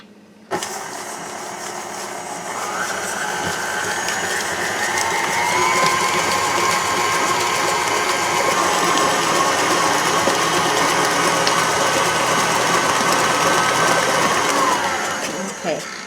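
A KitchenAid stand mixer with a paddle attachment beats brownie batter, a loud, close, continuous motor whine with a rising then steady gear hum that runs for most of the stretch before cutting off.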